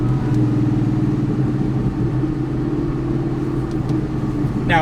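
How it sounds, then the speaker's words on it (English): A Torch Red Terminator Cobra with long-tube headers, an off-road X-pipe and a Bassani catback exhaust rumbles steadily nearby, a deep, continuous low-pitched burble with no talking over it. "It has Coupes long tubes, off-road X-pipe, and Bassani catback. I've been told this car sounds really good."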